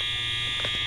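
Overfill alarm at a school, sounding as a loud, steady high-pitched electronic buzz that runs unbroken through the whole short clip, with no voices.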